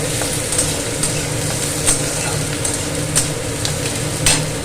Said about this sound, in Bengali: দেখি পেঁয়াজটাও ভেজে নেব লাল করে